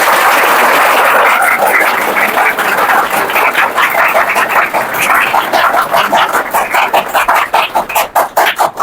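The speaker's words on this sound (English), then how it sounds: "let's have a huge round of applause for him" An audience at a public speaking training session gives a loud round of applause, starting as a dense roar and thinning into slower, more distinct individual claps by the end.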